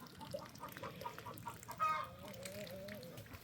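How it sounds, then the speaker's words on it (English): Hens cluck and murmur around their pens at a farm, a quiet, nearby chorus of short clucks with one longer wavering call rising midway. "I got all these crazy hens there wanting to roost on that"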